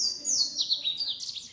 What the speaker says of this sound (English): the sky lightens and birds are singing from every direction